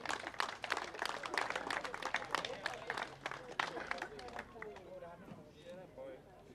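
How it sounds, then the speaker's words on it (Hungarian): Scattered, fairly quiet applause rises from a small outdoor crowd at an amateur cycling race's prize announcement, brisk claps for a few seconds before thinning out, with someone talking nearby. "nagy tapsot megérdemel"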